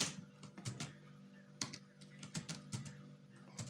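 Fingers type on a computer keyboard in irregular bursts of soft, close key clicks, entering text into a Word document over a faint low hum.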